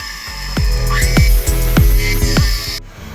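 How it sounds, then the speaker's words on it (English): A cutting machine slices through wooden table legs at an angle, giving a loud, steady grinding whine broken by a series of regular, sharp bites roughly every half second before it suddenly cuts off. "Now the stage of cutting the table legs with the cutting machine."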